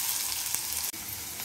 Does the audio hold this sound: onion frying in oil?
yes